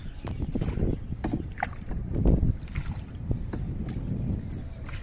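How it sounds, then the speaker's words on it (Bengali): A small boat moves across clear water at Purbachal, Dhaka, with soft splashing and lapping, a steady low rumble of wind and hull noise throughout. "নৌকাটা একদম বাসার করে বানায় নিয়েছে"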